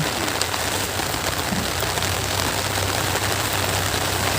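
Steady rain falling over a fertilized garden, a dense continuous hiss of drops on surfaces, even and loud throughout with no pauses.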